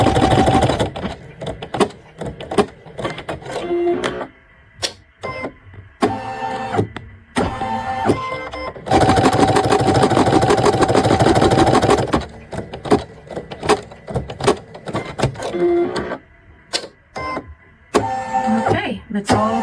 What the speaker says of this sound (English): we're going to begin now embroidering this